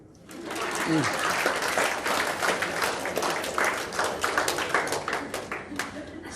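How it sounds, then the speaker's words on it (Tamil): Audience clapping at a Tamil talk on natural food in Singapore, dense and fairly loud, swelling quickly and continuing with a speaking voice over it. "கைத்தட்டுங்களேன்"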